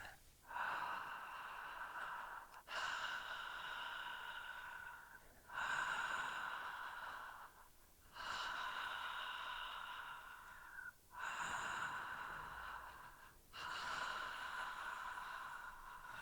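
Deep, slow breaths drawn in and let out in a steady cycle during a relaxation exercise for childbirth, each long breath close and clear with short pauses between, no talking.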